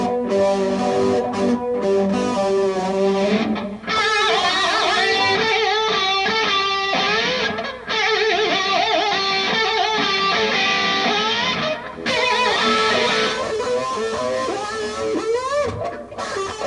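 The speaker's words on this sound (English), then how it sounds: "So they're both distorted, but definitely have different tones." Two distorted electric guitars with contrasting tones play together through a Zoom LiveTrak L12 mixer, loud and continuous with shifting chords and brief breaks between phrases, no talking over them.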